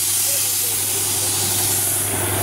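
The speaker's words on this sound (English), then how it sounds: "he's now spraying his car out with air pressure because half the desert's in his van" An air pressure hose blasts sand out of a van after a desert safari near Dubai, a steady loud hiss of rushing air with a low engine-like hum underneath, continuous throughout.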